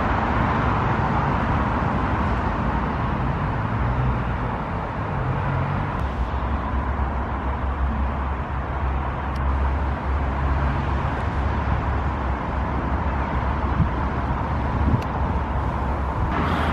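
Traffic on a dual carriageway rushes past in a continuous roar, heard from a vehicle parked beside the road, with passing cars swelling and fading under steady road noise.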